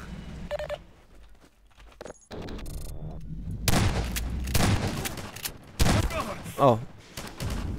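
Rapid bursts of gunfire from a Combine soldier in Half-Life 2, sharp cracks clustered in the second half over game ambience, with a brief spoken exclamation.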